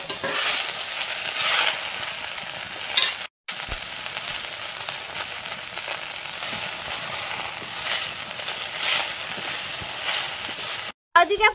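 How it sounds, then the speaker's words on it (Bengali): Malabar spinach leaves fry in a wok with salt and turmeric, giving a steady close sizzle with bursts of stirring and crackle that continues almost without a break. "এই কড়াইতে লবণ হলুদ হালকা করে দিয়ে পুঁইশাক পাতাটা ভেজে নেব"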